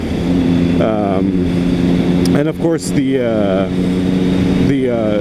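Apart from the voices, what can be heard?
motorcycle engine with aftermarket exhaust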